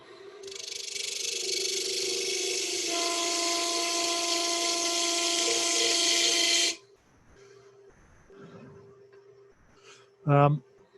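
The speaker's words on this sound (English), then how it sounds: "just sharpen the parting tool. So now I just need to cut a slot." A parting tool cuts a slot in a spinning wooden bowl with a pewter rim on a lathe, giving a loud, steady hissing whine with a tonal hum that stops sharply, followed by quiet room noise and a brief knock.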